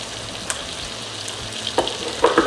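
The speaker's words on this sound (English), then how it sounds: "I'm going to stir this around for about 2 to 3 minutes." Flour being stirred into melted butter in a pan for a roux, giving a steady soft sizzle with a few scraping stir sounds toward the end, close and without talk.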